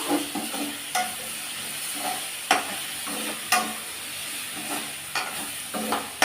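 Vegetables being mixed with thick curd in a pan for a quick lunch-box rice dish, with a low sizzle under repeated clinking and scraping strokes of the spoon at an uneven rhythm, close and without talk.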